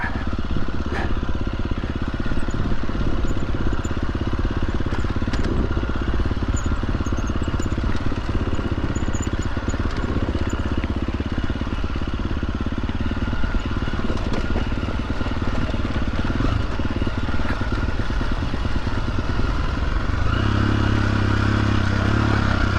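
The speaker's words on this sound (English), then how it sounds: "The engine braking just decided to kick in all of a sudden." Motorcycle engine running continuously in first gear with a low rumbling drone that shifts and deepens near the end as engine braking kicks in, with faint mechanical clatter.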